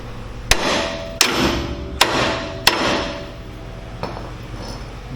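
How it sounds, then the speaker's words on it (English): Four heavy, ringing hammer strikes land on a 10th-generation Ford F-150 suspension joint during lowering work, spaced under a second apart and close, followed by a softer fifth tap. "Well, the hammer ain't working too well."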